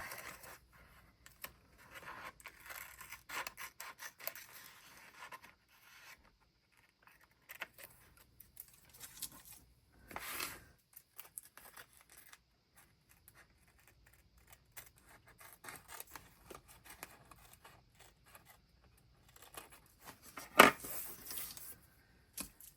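Scissors trim decorative sunflower tape in a faint, quiet series of small snips and rustles up close, spread out with pauses and a few brief louder clicks.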